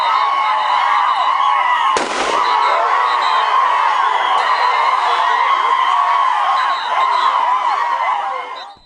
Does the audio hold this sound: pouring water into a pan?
no